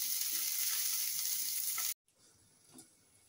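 Potatoes with chili powder sizzle steadily in a pan over a low-medium flame, a bright continuous hiss that cuts off abruptly and then returns much fainter.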